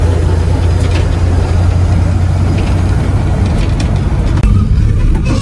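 A 1961 Ford engine running after a timing adjustment to 12 degrees initial, a loud, steady, low rumble with even idle and no valve chatter, heard close up throughout.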